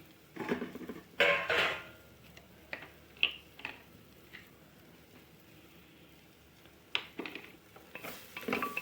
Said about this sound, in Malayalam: നമുക്ക് നന്നായി ഇളക്കി ഒന്ന് മൂപ്പിച്ചെടുക്കാം.